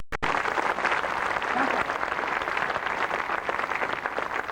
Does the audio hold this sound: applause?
yes